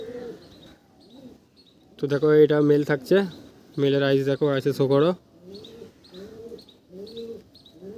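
Madras pigeons in a loft give soft rhythmic coos, a steady series of low rounded calls near the listener, broken by stretches of someone talking close by.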